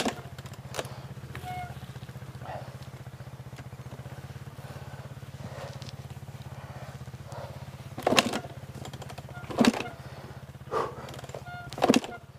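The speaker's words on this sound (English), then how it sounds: "I just can't get the bike started." KTM 200 dirt bike engine failing to start, a low steady rumbling hum running throughout, broken by several short louder bursts and clatters toward the end.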